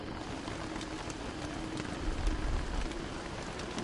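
Steady rain in the video game Don't Starve Giants, a soft even patter of drops filling the whole scene with a slightly heavier swell near the middle, no voices over it.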